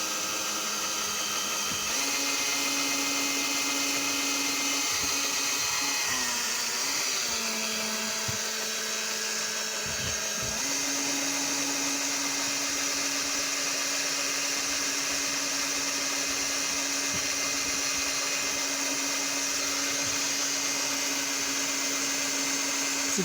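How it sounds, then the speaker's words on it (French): A drill bores through a hard plastic aluminium pedal mount on a Citroen C4, with a steady high whine that stalls and dips briefly midway, then resumes its even drone. "il me reste plus qu'à percer"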